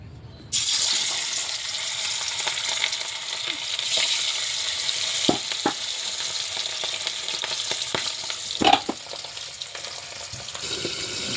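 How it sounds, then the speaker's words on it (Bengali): Boal fish pieces frying in hot oil in a steel or iron pan, a steady close sizzle with occasional sharp pops and clatters, no one talking. "এই যে বোয়াল মাছ এখনও ভাজা চলছে"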